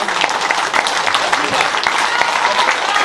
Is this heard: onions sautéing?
no